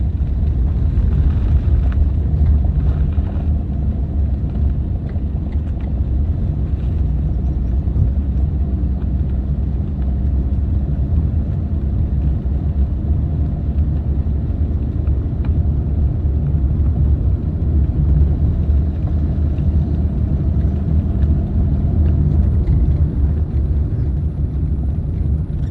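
Car engine droning steadily as a learner driver in a beginner's driving lesson speeds up, a continuous loud low rumble with no break.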